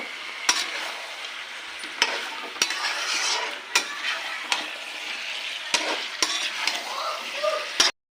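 Potatoes and mutton are stirred in a frying pan while oil sizzles steadily underneath, with sharp scraping clacks of the utensil against the pan at irregular intervals.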